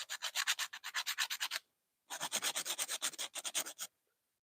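Rapid back-and-forth sanding strokes on the edge of a pumpkin, a close dry rasping in two quick bursts of about a dozen strokes each, separated by a short pause, with no talk.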